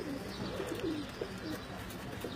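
Teddy pigeons coo in a home loft, soft repeated throaty coos rising and falling in short phrases over a steady background hiss, fairly close and moderately quiet, with no talking.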